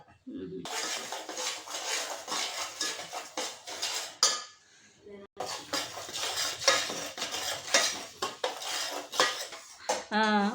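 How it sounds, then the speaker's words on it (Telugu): A spoon scrapes and stirs repeatedly against a pan of roasting semolina, dry granules rustling, close up, with a brief pause midway. "కొంచెం రవ్వ వేపుకున్నాం కదా"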